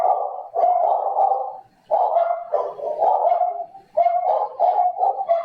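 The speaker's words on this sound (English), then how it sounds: "you hear even the dogs barking in a different language" Dogs bark repeatedly in a residential community in Guyana, loud and fairly close, in bursts with short pauses between runs of barks, and no one speaks.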